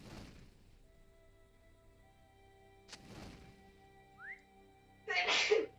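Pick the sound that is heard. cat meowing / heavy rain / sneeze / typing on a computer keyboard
sneeze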